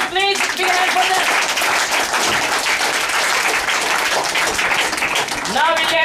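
Audience at a debate competition claps loudly and steadily for the judges, a dense burst of applause lasting several seconds, with a voice briefly speaking at the start and end.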